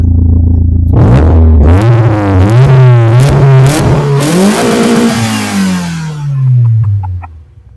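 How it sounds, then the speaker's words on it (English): A car engine revs hard through a Magnaflow-style back box exhaust, climbing and falling in pitch over several seconds. It is loud and close, with a brief blip near the start and a slow settle at the end. "give it a rev"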